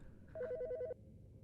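A single short burst of telephone ringing in a horror video game, a rapid electronic trill of about half a second, moderately loud over a low background hum.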